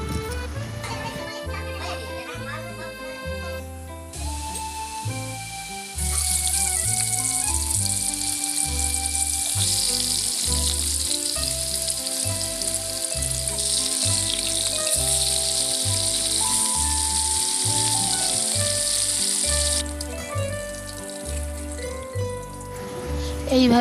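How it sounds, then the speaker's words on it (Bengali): Fish frying in hot mustard oil in a wok: a loud, hissing sizzle bursts in partway through and runs steadily for about fifteen seconds over rhythmic background music. "এবার কড়াইতে সরষের তেল দিয়ে মাছগুলোকে আমি ভেজে নেব।"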